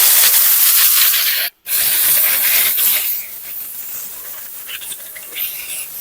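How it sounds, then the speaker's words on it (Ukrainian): Compressed air from a compressor blasts across a brush cutter during winter storage prep, a loud steady hiss lasting most of the span, briefly cut off once, then continuing at a lower, rougher level. "Ті частинки, які ми не змогли видалити компресором"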